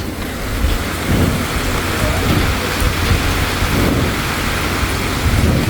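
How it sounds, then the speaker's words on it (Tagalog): Loud, steady downpour of heavy rain in the Philippines, a dense continuous roar with low rumbling underneath, and no talking. "Hindi tayo makalabas at lakas ng ulan."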